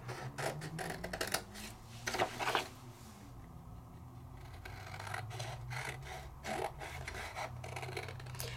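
Paper card pieces being cut out for a stamped quick card kit, heard as quiet, scratchy rasping snips and rubbing bursts at a close distance, spread irregularly across the stretch with a brief lull in the middle.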